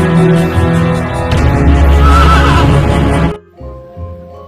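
A toy horse gives a loud, close electronic neigh, a long whinny lasting about three seconds before it cuts off into a few softer trailing sounds.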